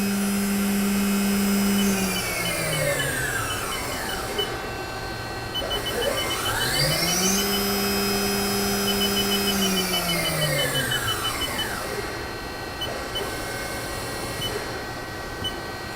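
A Haas VM-3 vertical milling machine spindle whirs up and down in pitch, sweeping through speeds toward 12,000 RPM, with a steady electronic beep pulsing intermittently over the constant mechanical drone.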